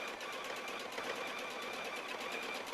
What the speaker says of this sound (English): So you'll hear it, you can kind of hear that motor.